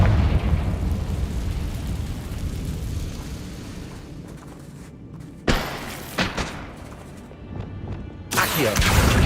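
Confringo blasting spells detonate in Hogwarts Legacy: a loud, roaring stretch of blast noise, then several sharp, punchy explosions that burst out separately near the end.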